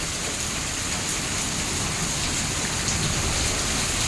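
Heavy rain falls during a hailstorm at a farm, a dense, constant hiss and patter, close and steady throughout with no voices.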